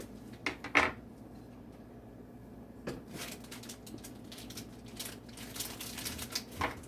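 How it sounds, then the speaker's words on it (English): A knife slices pepperoni for an all-meat pizza on a kitchen board, producing a sharp clack followed by repeated soft tapping and scraping cuts, close and fairly quiet. "So I'm just slicing up some pepperoni right now to add to it"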